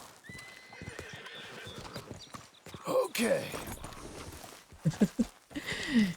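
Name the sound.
horse in Red Dead Redemption 2 video game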